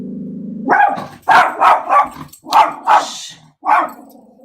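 A dog named Remy barks loudly and close by in a quick series of about six sharp barks, after a low growl at the start.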